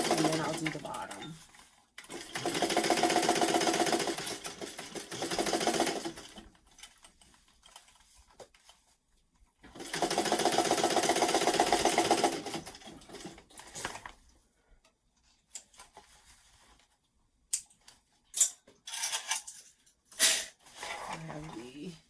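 A sewing machine stitches the side seam of a Carmen weekender travel bag in two sustained runs, separated by quieter stretches of handling and fabric shuffling.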